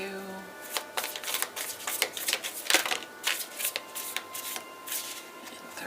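Rapid riffle shuffling of playing cards, crisp fluttering bursts repeating several times up close, with faint background murmur.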